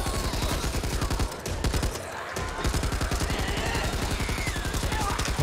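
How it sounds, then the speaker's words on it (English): Rapid automatic gunfire from a weapon fired from the hip in Back 4 Blood, a loud, steady stream of close shots with a brief pause partway through before the firing resumes. "All right, time to fire from the hip."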